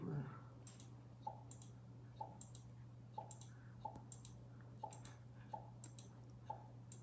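A computer mouse clicks steadily while patterns are drawn in CreativeStudio 7 software: sharp, close, evenly spaced single clicks about every two-thirds of a second over a low steady hum.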